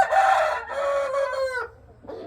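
A rooster crows once, close and loud, with a long drawn-out call that ends abruptly, followed by a short softer sound.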